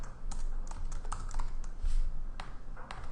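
Computer keyboard keys clatter in quick, uneven bursts of clicks while someone types in a code editor, close and moderately loud, with no voices.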